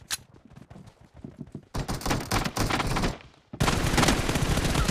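Rapid bursts of gunfire ring out in the PUBG video game, scattered single shots at first, then dense sustained automatic volleys that grow louder, with no talk over them.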